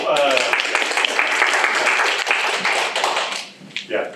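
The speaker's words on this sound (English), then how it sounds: "don't forget the applause" Audience applause after a panelist speaks at a college communication studies alumni career panel, sustained crowd clapping with some voices mixed in, fading out toward the end.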